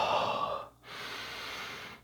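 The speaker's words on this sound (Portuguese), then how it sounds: "Respira aí." A person breathes audibly, a long exhale, a short pause, then a steady inhale, close to the microphone with no talking.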